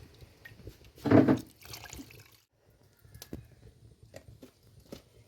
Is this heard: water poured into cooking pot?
yes